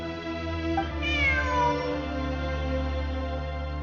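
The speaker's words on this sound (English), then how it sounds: "Look, a cat." A cat in the video game Genshin Impact meows once in a drawn-out, falling call, heard over steady game background music.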